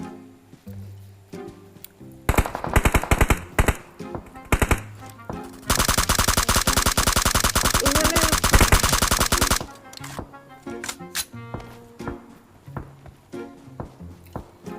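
Rapid automatic gunfire shooting bots in PUBG, with short bursts and then one long sustained stream of loud shots before it settles back into sparse game noise.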